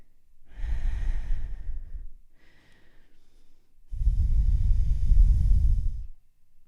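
Deep breathing during a triangle yoga pose: a long slow inhale, a short pause and faint breath, then a fuller, louder exhale, close to the ear and heard alone.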